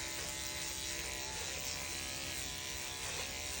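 Electric clippers body clipping a gray horse give a steady, close, continuous buzz that runs unbroken and alone, shifting slightly as short strokes pass over the coat.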